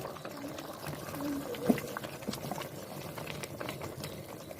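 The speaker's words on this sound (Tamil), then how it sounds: "நல்லா கொதி வந்துச்சு பாருங்க. நல்லா குருமா ரெடி ஆகிடுச்சு." Meal maker kurma, a thick Tamil village-style salna, bubbling steadily in a pot, with a continuous close simmering patter and scattered small pops, and one brief louder blip midway.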